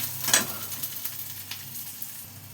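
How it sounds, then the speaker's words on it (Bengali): Green chili pieces frying lightly in oil produce a soft, faint sizzle with a sharper crackle burst near the start and a few small taps, no talking. "কাঁচা লঙ্কা টুকরোগুলো দিয়ে দিলাম। এগুলো একটু হালকা ভেজে নেব"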